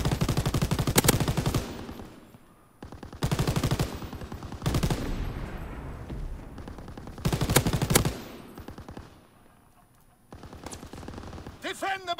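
Automatic gunfire in Call of Duty WW2: loud, rapid bursts of shots separated by short quiet gaps, repeating through the stretch.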